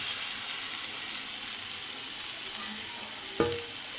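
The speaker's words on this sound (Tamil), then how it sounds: "டெம்பே க்யூப்ஸ், அதையும் போட்டு நல்லா வதக்கிடலாம்." Marinated tempeh cubes sautéing in masala make a steady, low sizzle with soft stirring scrapes and a few brief clinks, no voices.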